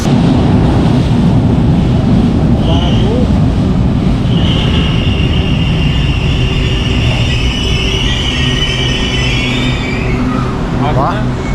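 A light rail train rumbles in loud and close at Baclaran station in Manila, with wheel screeches and squeals rising over the steady roar of the cars.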